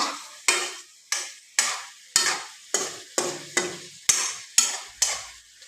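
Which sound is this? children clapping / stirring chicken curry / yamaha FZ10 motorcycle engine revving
stirring chicken curry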